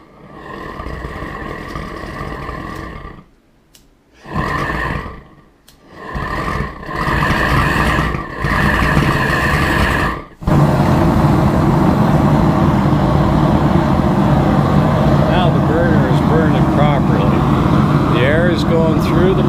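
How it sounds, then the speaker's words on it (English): A gas burner lit with a lighter roars loudly in uneven bursts, cutting in and out a few times before settling into a steady, continuous rushing roar; a person talks over it at the start. "I light it, it's a little bit noisy until I get the lid on"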